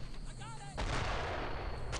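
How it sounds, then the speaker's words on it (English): Gunfire in the World War II shooter Brothers in Arms: Road to Hill 30, a loud sustained burst of shots and battle noise cutting in after a brief stretch of voice, continuing steadily to the end. "Where am I getting shot from?"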